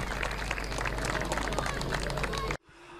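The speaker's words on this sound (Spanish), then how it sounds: "El saludo final y el aplauso desde la tribuna" Applause and crowd noise rise from the stands after a 1-1 football match between Municipal and Belgrano, a broad, steady roar of clapping and cheering that cuts off abruptly near the end.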